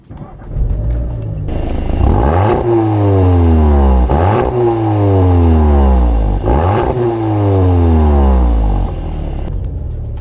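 A loud 2019 Audi TT engine revs up repeatedly while driving, pitch climbing through each gear before dropping at the shift, heard from close by.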